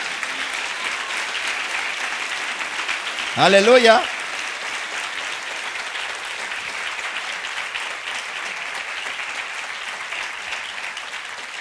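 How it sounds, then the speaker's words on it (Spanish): Audience applause at a church sermon, a steady broad wash of clapping running throughout with a brief spoken exclamation about a third of the way in. "¿Cuántos dan un aplauso al Rey de Reyes?"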